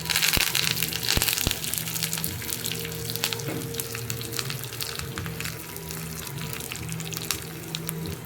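Chopped shallots and a sprig of curry leaves temper in hot oil for a Nagercoil-style tamarind curry, a dense, crackling sizzle with sharp scraping and clattering stirs, loudest at the start and steady afterward.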